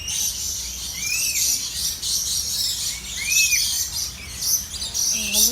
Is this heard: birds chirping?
yes